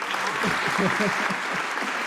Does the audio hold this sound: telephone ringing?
no